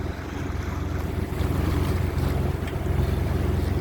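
Churning water stirred up by meeting tides washes beneath a sailing boat in the Needles North Channel, a steady surging rush mixed with wind buffeting the microphone.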